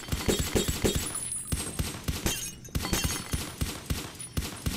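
Rapid gunfire in Fallout: New Vegas with Pluramon mods, a steady run of sharp, evenly spaced shots close up and loud, with no talking.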